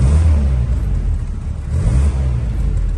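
A 1962 Land Rover Light 4x4 Utility engine idles loud and close, a steady low rumble with slight rises in pitch, and no voices over it.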